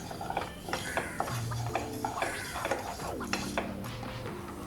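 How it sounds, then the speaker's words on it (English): Sesame seeds dry-roasting in a kadai, with clinking and scraping of a spoon against the metal pan in irregular strokes, moderately close. "I'm adding sesame seeds in a dry pan. I'm roasting it well."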